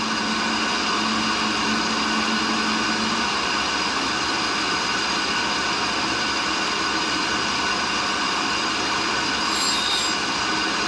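A tool and cutter grinder wheel grinding a pin fed into it, a steady dense high-pitched whine and hiss running continuously and fairly loud throughout, with no talk.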